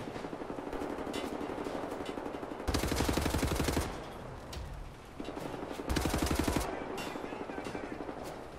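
Automatic weapon fire in the shooter Wolfenstein: The New Order, with repeated rapid bursts of machine-gun shots, two long loud volleys between quieter scattered fire and a low rumble underneath.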